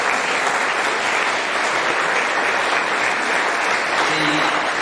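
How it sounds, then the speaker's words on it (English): Continuous applause from a birthday celebration crowd, many hands clapping at a constant, full level from start to finish. "I think we should all give ourselves a big round of applause for the work"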